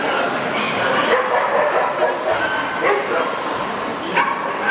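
Dog giving several short yips and barks during an obedience show at a dog event, heard over constant crowd noise and talk in the background.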